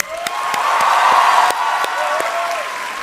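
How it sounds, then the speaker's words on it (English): An auditorium audience applauds loudly and continuously, a broad roar of clapping with a few whoops mixed in, sustained throughout. "a big round of applause to all of you"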